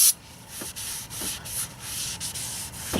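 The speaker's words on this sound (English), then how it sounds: "clean off the rotor" Repeated rubbing strokes as a cloth wipes a BMW X3 E83 brake rotor clean, a rhythmic scrubbing hiss close up with no talk.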